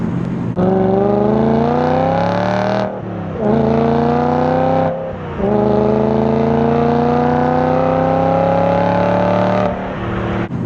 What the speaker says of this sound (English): someone's done something to the exhaust. Yeah. And it sounds good.